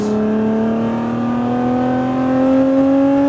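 A Lotus Emira's engine pulls hard on a racetrack, a loud, steady accelerating roar with the pitch climbing smoothly throughout, close and continuous with no talk over it.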